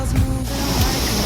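The flooded Baitarani river rushes past in a loud, continuous roar of churning water, with a heavy low rumble and a broad hiss throughout.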